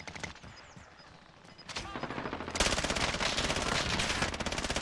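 Rapid automatic gunfire from the Warzone video game starts faintly, then swells into a loud, continuous stream of fast, evenly spaced shots that fills the second half.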